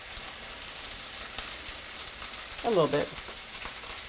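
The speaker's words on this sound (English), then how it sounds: "And you can hear that pork sizzling." Pork sizzles steadily in a pan with limp shallots and a splash of bourbon, a constant crackling hiss throughout, broken by a brief voice partway through.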